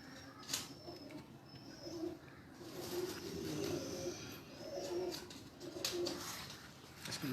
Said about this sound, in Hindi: लाजवाब कबूतर।